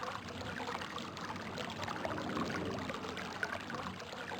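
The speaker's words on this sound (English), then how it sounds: "Dripping water." Dripping and trickling water in the video game RealMyst, a soft steady wash of running water carrying on alone at low level for a few seconds.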